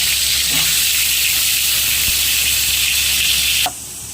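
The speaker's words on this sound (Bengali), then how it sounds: "পটলটা ভেজে নেবো এবার, যেটা নুন হলুদ দিয়ে মাখা ছিল।" Pointed gourd (potol) pieces coated in salt and turmeric fry in hot oil for potol posto, a loud, dense, steady sizzle close by that cuts off abruptly near the end.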